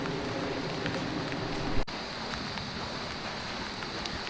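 Steady rain hissing outdoors on a street in Angeles City, a constant even wash of noise with one brief sharp knock partway through, no voices.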